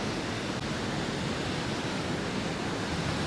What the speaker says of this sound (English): Look how that water cascades down there.